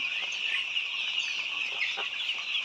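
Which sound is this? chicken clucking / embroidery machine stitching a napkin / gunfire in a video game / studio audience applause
chicken clucking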